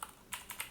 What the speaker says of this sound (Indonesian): bintang biasanya di keyboard itu shift, tekan shift 8 ya